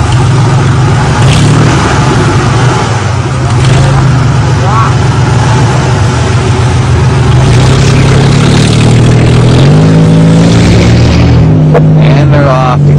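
A Dodge Tradesman van and a full-size Ford van run their engines loud and close, a thick roar that climbs in pitch as they rev midway, then settles.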